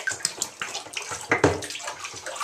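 Water runs steadily into a kitchen sink as dishes are given a cold rinse, a close, continuous splashing stream with small gurgles and shifts in the flow.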